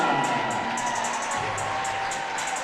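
Crowd murmur fills a high school basketball gym in Minot, North Dakota, before a boys' game against Saint Mary's, a steady broad wash of many voices with scattered high squeaks and faint cheers.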